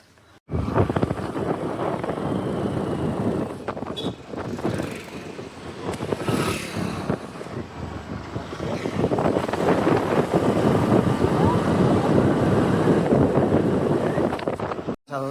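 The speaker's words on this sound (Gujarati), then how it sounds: "અમારા રમેશભાઈ આવી ગયા છે તો અમે તેની સાથે જઈએ છીએ મશીન લેવા માટે એક્ટિવા લઈને ચલો" On a moving Activa scooter, wind buffets the microphone in a loud, continuous roar with a muffled engine drone underneath, after a brief quiet start.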